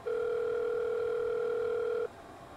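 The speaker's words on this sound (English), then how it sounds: "I'm going to push this button on this cell phone here" Phone dial tone in a Challenger 650 flight simulator, a steady two-pitch electronic hum held for about two seconds before cutting off abruptly, clear and alone.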